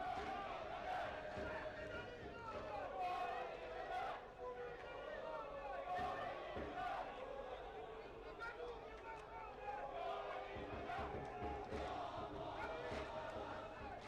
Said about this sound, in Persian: میبینید داماشی های متعصب رو تشویق میکنن تیم خودشون رو.